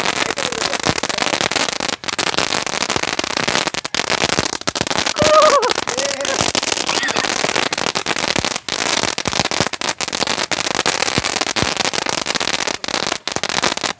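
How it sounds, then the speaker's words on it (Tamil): A lollipop firecracker among Diwali Sivakasi crackers going off outdoors: a loud, dense, continuous crackling barrage of rapid pops lasting throughout, with brief whistling bits and a few gaps, close by. "அடுத்ததா இந்த லாலிபாப் வந்து ஃபயர் பண்ணி பார்க்கலாம்"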